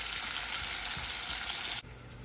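Zucchini fries in a pan to get crispy, giving a steady, close sizzle that drops suddenly to a quieter hiss near the end.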